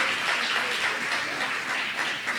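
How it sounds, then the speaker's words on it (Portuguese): Church congregation applauding the name of Jesus during a Portuguese-language praise and worship service, a dense, even wash of clapping held steady throughout at moderate volume. "Você pode aplaudir o nome do Senhor Jesus?"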